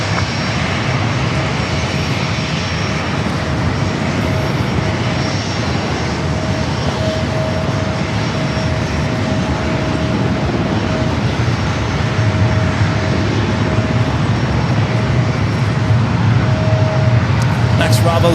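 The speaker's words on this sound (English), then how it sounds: "Next Bravo is a flight coming in from Phoenix" Southwest Boeing 737-700 airliner on flight 1181 from Phoenix, its engines a steady continuous roar for the whole stretch at a San Diego airport, loud and unbroken with a faint tonal hum.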